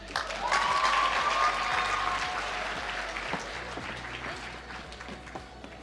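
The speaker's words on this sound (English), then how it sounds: "can we please give another round of applause to Latoya as she makes her way to stage" An audience at a national ICT summit claps as a speaker walks to the stage, a broad sustained round of applause that starts strong and slowly tapers, with a faint tone drifting beneath early on.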